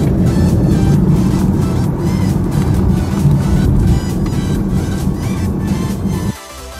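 BMW i8 sports car with a steady, loud road drone of engine and tire noise throughout, as if heard from inside while cruising, dropping sharply at the very end.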